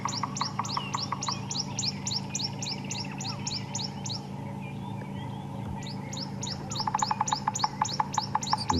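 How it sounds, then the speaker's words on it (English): Birds singing at sunrise on an African safari: rapid repeated chirping phrases from a nearby bird over a steady low background, pausing briefly midway before resuming more strongly. "Lots of bird song that you can hear."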